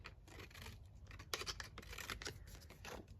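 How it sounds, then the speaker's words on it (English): Scissors trim excess fabric in a few soft, rapid snips and scrapes, faint and close with no talking. "you can then trim off the excess"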